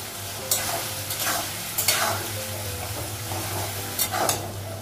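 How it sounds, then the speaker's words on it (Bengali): Salted onions fry in a pan until reddish, a close steady sizzle broken by repeated bursts of stirring and scraping. "পেঁয়াজটা একটু লাল করে ভেজে নেব"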